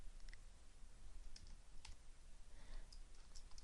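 Arrow keys pressed on a computer keyboard while a form is being positioned in a software design area, a few faint, quiet clicks scattered irregularly over a low background hiss.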